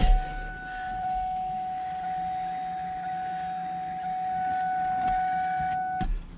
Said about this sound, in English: turn the key on to see if it's gonna prime the pumps